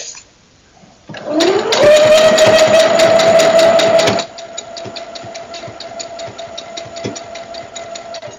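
Sewing machine stitching two layers of fabric for a hoodie, a loud steady mechanical whir with rapid ticking needle strokes, starting after a brief quiet and then dropping to a softer steady run.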